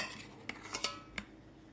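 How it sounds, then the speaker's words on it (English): A metal spoon scoops cooked Instant Pot potatoes into a bowl with butter, giving four or five close, bright clinks and scrapes against the dish at uneven intervals. "We'll just go ahead and scoop these potatoes in here with some butter, and then we'll mash them all up."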